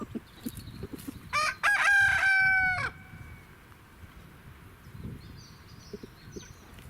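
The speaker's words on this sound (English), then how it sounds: "Oh, that is a little hen." A rooster crows in a loud, close burst with several stacked harmonic calls, set among softer background clucking and farmyard noise; a small hen is nearby.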